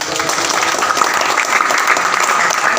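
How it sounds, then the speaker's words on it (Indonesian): A dense, steady burst of audience clapping at a school safety riding talk, loud and even for a few seconds with no voices over it. "Oke, tepuk tangan."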